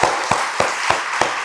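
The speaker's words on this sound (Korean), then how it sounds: "우리 선생님들 한번 다시 한번 힘내시라고 격려의 박수 한번 보내겠습니다" A church congregation at a teachers' dedication service claps in unison, evenly spaced sharp claps about three per second over a soft room hum.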